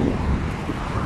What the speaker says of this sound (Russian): ветер опять сильный